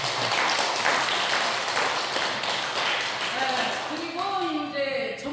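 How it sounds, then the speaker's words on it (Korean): A congregation at a Korean Won Buddhist dharma service gives a big round of applause, a dense, loud wash of clapping that fills the room for several seconds and then gives way to voices. "우리 모두 교도님들 자신에게 큰 박수 한번"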